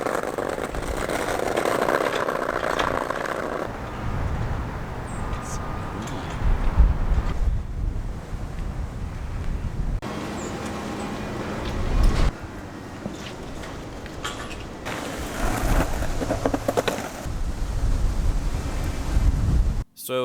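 Cold wind buffets a microphone outdoors in loud, uneven rumbling gusts that rise and fall for about twenty seconds, with no voice over it.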